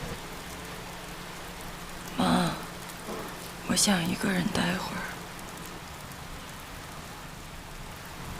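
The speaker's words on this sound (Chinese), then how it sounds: "下雨了" Steady rain hisses evenly in the background throughout, with a person speaking briefly over it.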